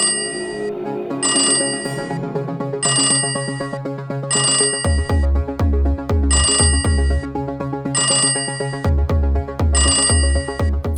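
A phone rings out on a call to a bank, repeated bursts of bright electronic ringtone in a steady on-off pattern, loud and close, with a low thumping layer joining partway through and no voices.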